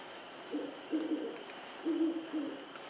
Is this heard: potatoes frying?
no